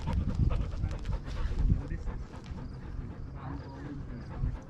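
A dog panting rapidly and steadily, close to the microphone during a forest hike, with rustling footsteps and light movement noise around it and a brief voice early on.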